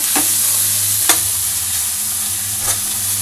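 Mixed vegetables sizzle steadily in a hot pan for vegetable fried rice, a constant bright frying hiss with a few sharp stirring scrapes, close and alone.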